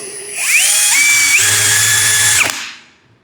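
A brushless power drill spins up into a high, steady whine, its pitch stepping higher as it speeds up, then winds down and stops.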